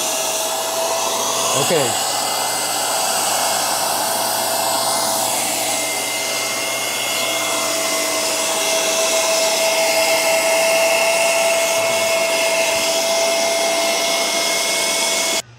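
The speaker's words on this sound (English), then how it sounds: "we're gonna turn it on and we're gonna turn it on deep clean." Shark CarpetXpert StainStriker upright carpet cleaner running on its deep clean setting, a loud, steady motor whine with a high tonal hum that holds throughout, while a voice briefly speaks over it.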